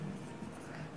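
Marker or chalk scratching across a board during a math lesson, faint soft strokes close to the microphone, quiet and continuous with no talking.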